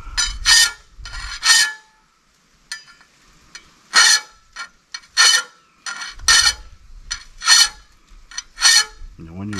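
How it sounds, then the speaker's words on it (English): A hand file rasps along a blade being sharpened in forward-only strokes, giving repeated harsh scraping bursts separated by short pauses, close and loud with no talking. "when you're sharpening these kind of blades, you only want to push forward"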